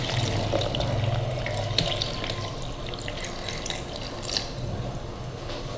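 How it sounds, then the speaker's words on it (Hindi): A glass of water pours steadily into a grinder jug holding strawberries for several seconds, a continuous close splashing rush with a few brief knocks. "उसके अंदर डालेंगे हम 1 गिलास पानी।"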